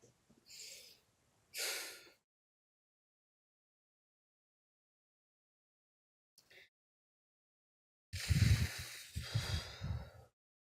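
Heavy, close breathing from a Star Wars audio drama, a few separate gasping and snorting breaths with long silence between, then a dense rasping burst near the end.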